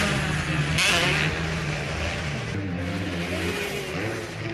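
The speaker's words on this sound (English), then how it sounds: "No, that's not Ben. That's a two-stroke." A two-stroke dirt bike engine revs at a motocross track, a loud, steady mid-pitched drone that swells in a brief surge near the start, then holds with slight wavering and shifting pitch.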